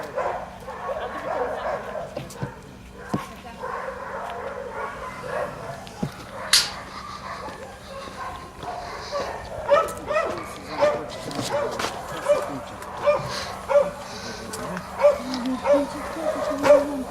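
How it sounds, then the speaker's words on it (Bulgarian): A collared Karakachan dog barks in a short repeated series near the end, with yips and whimpers earlier, under a steady low hum and occasional speech. "Това куче е домашно, има си, гледай."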